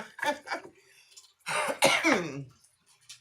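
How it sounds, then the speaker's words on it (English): A person coughs and clears their throat, a few harsh bursts close to the mic with brief pauses between. "I cough."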